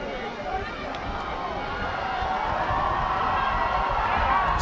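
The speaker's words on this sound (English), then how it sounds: "Student section getting loud here" The student section cheers at a Gross Catholic versus Beatrice high school football game, a broad crowd roar that swells steadily louder, heard from a distance as a continuous wash of voices.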